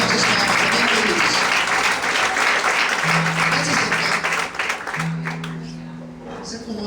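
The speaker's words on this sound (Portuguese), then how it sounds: "Será que você pode aplaudir ao Senhor bem forte?" A church congregation claps loudly and steadily during a Portuguese-language sermon, a dense wash of applause filling the room for several seconds while a voice speaks over it and sustained tones ring beneath.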